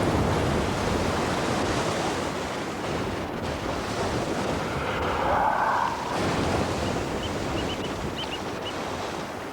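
Rough sea waves crash against the rocks of a beach on the Big Sur coast in California, a steady roaring surf with wind noise and no voices.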